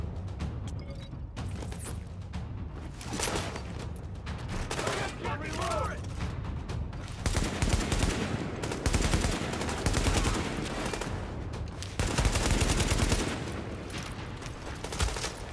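Sustained bursts of turret and rifle gunfire in The Division shooter, loud and continuous with heavier volleys toward the end, with occasional voice mixed in.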